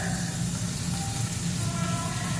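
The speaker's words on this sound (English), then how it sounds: "As I'm doing that, I'm actually going to go ahead and throw in my butter" Butter sizzling in a hot pan with steak, with fresh thyme going in, a steady loud hiss and crackle that runs without a break.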